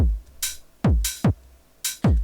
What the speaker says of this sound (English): for the open hats, I'm going to use a 909 drum machine and take the hats from there.